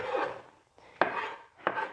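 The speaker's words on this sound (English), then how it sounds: "So some nice fine pieces of onion, just rock chopping through there." A kitchen knife rock chopping onion into fine pieces on a board, a few soft, close scraping taps spaced irregularly, with no talk.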